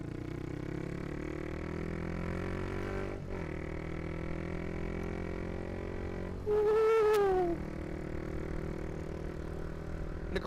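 A motorcycle fitted with a Proliner exhaust hums steadily on a test ride, engine tone shifting gradually, with a brief louder rising-then-falling swell near the middle.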